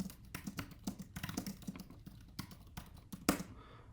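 A computer keyboard clicks in quick, fairly regular keystrokes for a few seconds while text is entered into a text box, close up but quiet, with no speech.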